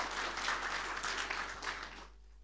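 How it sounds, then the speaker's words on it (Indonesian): Church congregation applauding during an Indonesian worship service at GBI Sport Centre: dense, steady clapping from many hands fills the room, then cuts off abruptly near the end, leaving quiet hum. "Ya, tepuk tangan buat Tuhan Yesus Kristus."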